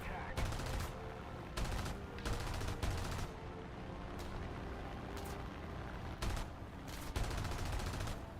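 Aircraft cannons fire in War Thunder during a US rank II aviation match, rapid bursts of heavy automatic fire repeating in short strings over a constant engine drone, loud and dense.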